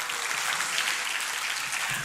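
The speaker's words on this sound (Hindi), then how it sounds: "मैं समझता हूँ ये आपकी तालियाँ मुझे जाने के लिए कह रही है।" Audience applause at a career guidance and board exam preparation event in Aurangabad, a continuous dense clapping that holds steady and fairly loud for a couple of seconds.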